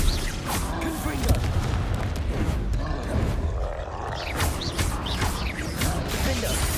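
A Confringo blasting spell erupts in Hogwarts Legacy combat amid a dense, continuous din of booms, roars and crackling effects, with bursts rising over a heavy rumbling background.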